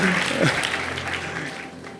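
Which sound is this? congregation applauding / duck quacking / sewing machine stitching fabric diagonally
congregation applauding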